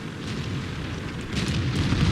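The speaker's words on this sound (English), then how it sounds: "I put a shot right through the window into his turret" Tank cannon shot striking an enemy turret in a World of Tanks-style game with a T28 tank destroyer, heard as a sustained, dense rumbling boom with a swelling burst of impact noise toward the end, loud and without talk.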